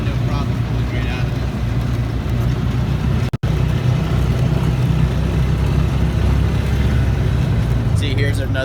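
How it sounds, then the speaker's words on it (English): A four-wheel-drive Polaris Ranger with EFI fuel injection powering out of deep water, its engine a loud, steady, close roar throughout, with brief voices faintly audible. "four-wheel drive and the weight of this Polaris Ranger, no problem pulling right out"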